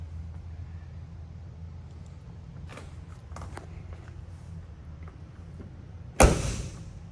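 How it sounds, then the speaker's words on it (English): A 1986 Ford F-150 truck door creaks and rattles quietly, then slams shut with one loud, sharp thud near the end. "Doors open and shut nice."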